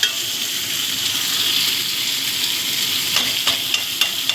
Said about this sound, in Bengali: একটু ঢাকা দিয়ে ভাজবো